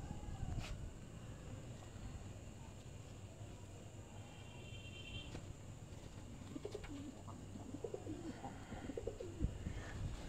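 Soft, repeated cooing of a golden pigeon on a rooftop loft, faint and somewhat distant, with occasional light bird calls over a steady low background hum.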